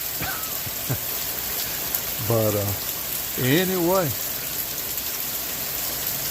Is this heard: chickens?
no